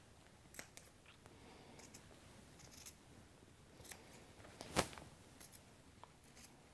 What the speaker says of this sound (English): Now I'm going to cut the holes out, so I'll start with this first hole.